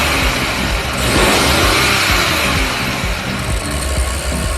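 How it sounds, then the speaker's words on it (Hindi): A Rolls-Royce Phantom engine revs steadily and loudly for several seconds, a dense continuous roar that swells slightly midway without any pause or talk. "ये इंजन साउंड तो करता है, लेकिन कभी भी रेव करने पर वाइब्रेट नहीं करता है।"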